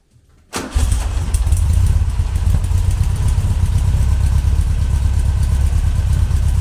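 A car engine fitted with reworked Weber IDF carburettors cranks and catches after a brief quiet moment, then settles into a loud, steady, lumpy idle with a rhythmic low pulse close by.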